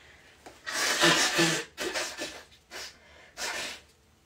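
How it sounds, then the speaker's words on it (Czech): A woman blows her nose close to the microphone in several loud, breathy bursts, a long honking blow followed by shorter snorts and sniffs with brief pauses between. "Pardon, že takhle smrkám, no."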